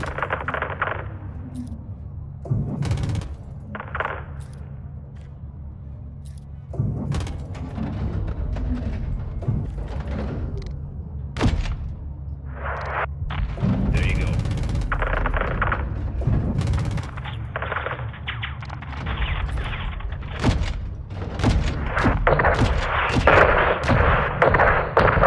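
Heavy AC-130 gunship cannon fire in a Call of Duty game booms out in repeated loud bursts, separated by short pauses and layered over a dense rumbling battle backdrop.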